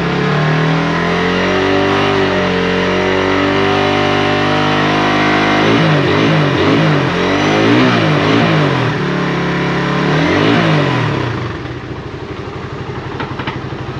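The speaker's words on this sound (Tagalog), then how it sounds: "ito po yung Honda Wave 125 na drag bike ng kapatid ko" A Honda Wave 125 drag motorcycle engine revs loud and close, holding high steady revs, dipping and climbing again in bursts, then dropping to a lumpy, rattling idle near the end.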